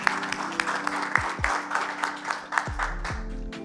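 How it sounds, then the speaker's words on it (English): An audience at a UPSC rankers' summit claps in scattered, uneven bursts, moderately loud indoors, while low thumps and a voice sound through it. "Alright, keep the applause going."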